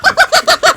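Chickens, chicks being put into a coop at night, give five quick, loud, evenly spaced clucks in a close, rhythmic burst.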